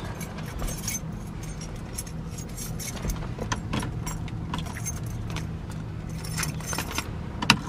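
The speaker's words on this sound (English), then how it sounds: "keys." Keys jangle steadily in the interior of a 1979 Pontiac Firebird Trans Am, with bright metallic clinks that repeat over a low engine idle and road hum that persist throughout.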